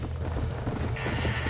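Horses neighing and stamping inside a burning barn in Red Dead Redemption, a short, close whinny over clattering hooves.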